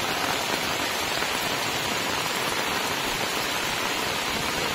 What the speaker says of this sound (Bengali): এই দেখো কত বৃষ্টি হচ্ছে।